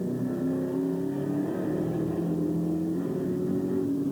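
A GT race car at Pukekohe drones steadily with a high, sustained engine note as it runs down the hill and across the line, loud and continuous, with no talking.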